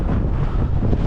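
Strong outdoor wind gusts buffet the microphone in a loud, rumbling roar that swirls on without pause, with trees tossing about nearby.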